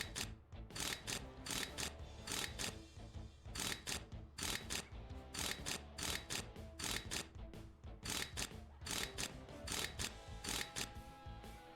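A wrench in Tank Mechanic Simulator screws individual bolts back into a tank, a fast run of sharp ratcheting clicks in dense repeated bursts with short pauses between bolts, close and steady, with no talking.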